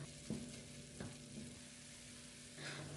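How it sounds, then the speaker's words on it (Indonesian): A cooking dish of broth is stirred as pepper and other seasonings are mixed in, with soft scraping strokes over a low, steady sizzle and no talking. "Aduk-aduk lagi sampai semua bumbu merata."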